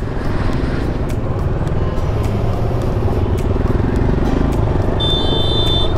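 Motorcycles including a Kawasaki Versys, a KTM 390 and a Royal Enfield Himalayan ride along, a loud continuous engine drone with wind rumble heard close, steady throughout.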